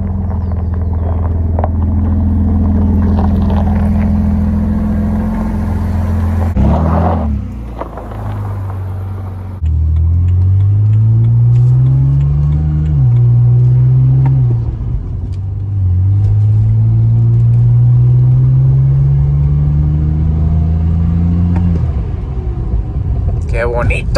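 A damaged 2011 BMW 328i xDrive engine rumbling while driving, loud and close with rising pitch sweeps as it accelerates through gears, with people talking over it.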